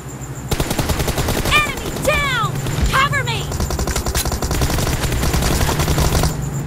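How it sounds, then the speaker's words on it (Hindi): Tommy gun fires in rapid automatic bursts in PUBG Mobile, a loud continuous rattle running through most of the stretch, with short chirping game effects over the gunfire. "Tommy gun OP"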